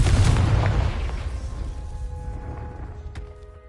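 In Hogwarts Legacy, a Confringo blasting spell bursts into one loud, booming explosion that hits hard at the start, then rumbles and fades out with scattered debris crackle.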